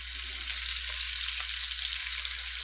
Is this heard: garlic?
yes